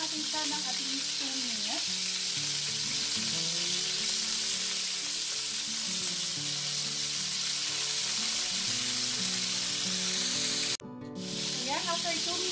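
Broccoli half-frying in hot oil gives a steady, close sizzle with soft stirring scrapes. A brief clatter sounds near the end.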